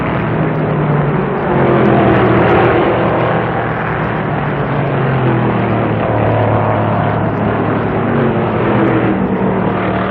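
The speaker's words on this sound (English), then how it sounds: "It's a quick stop for Goldsmith, and he returns to the race in second place" Stock cars racing in the 1967 World 600 make a loud, continuous engine roar that swells and fades slightly as the cars pass, with no voices over it.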